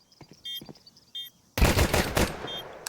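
Burst of rapid rifle fire in a Counter-Strike 2 match at an esports tournament, loud and dense after a quieter opening with a few faint shots and clicks.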